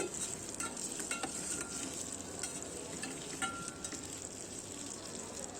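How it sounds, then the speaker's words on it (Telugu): Boiled eggs frying in turmeric-spiced oil in a bowl, a steady close sizzle with faint scattered crackles and occasional stirring ticks, no voices. "బాయిల్ చేసిన ఎగ్స్ని మనం కొంచెం ఫ్రై చేసుకోవాలి"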